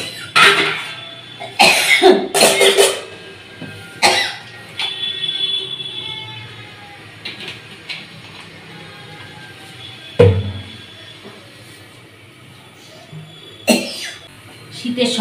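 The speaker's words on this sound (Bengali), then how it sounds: "শীতের সকালে না একটু জল ঘাটলেই কাশি শুরু হয়ে যায়" Coughing on a cold winter morning comes as several sharp bursts, some grouped in quick pairs, with a person talking quietly between them.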